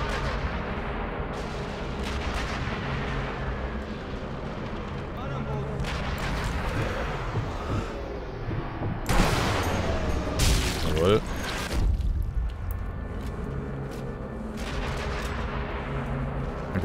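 Sniper rifle shots and explosions from the game Sniper Elite V2 boom across a loud battle soundscape, several sharp blasts clustered near the middle, with someone talking over parts of it.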